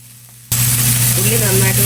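Sliced onions hit hot oil with a sudden loud burst of sizzling for a camel roast, then a steady, close hiss continues over a low constant hum.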